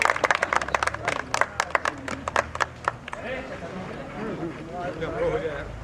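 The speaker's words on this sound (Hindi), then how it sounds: "फोटो लीजिए और तालियां बजाइए इनके लिए।" Audience clapping at a school event at an inter college in Azamgarh, a burst of loud, sharp, fairly rhythmic claps for about three seconds that then fades into crowd murmur and talking voices.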